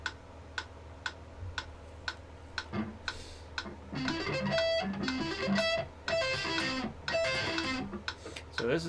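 A metronome ticks steadily at 120 beats per minute, sharp and regular, first heard alone and then partly buried under a played melody with distorted, effect-laden tones.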